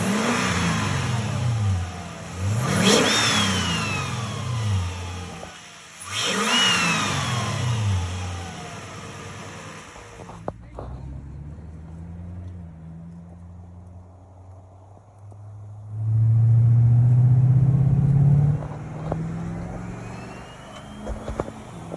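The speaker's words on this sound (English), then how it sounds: "Let's see what it sounds like when we start it up." A 2014 Toyota Tundra fitted with a T51R turbo kit revs hard twice in sharp rising bursts, then settles to a low idle before a deep, loud throttle stab swells and fades; close and with no talk.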